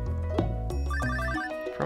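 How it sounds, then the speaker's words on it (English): Telephone ringing in the farming game Stardew Valley, a short bright electronic ring with rapid repeated tones over a steady background of game music, close and clear. "Seems we are getting a phone call"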